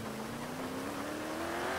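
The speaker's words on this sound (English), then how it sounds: "Goddamn engine's giving out." A failing car engine in a GTA V roleplay session drones steadily with a rising whine, a continuous strained mechanical hum close by and without speech.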